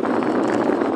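Strong wind buffeting a microphone on a boat out at sea during fishing in bad weather, a dense low roar that fills the whole moment without talk.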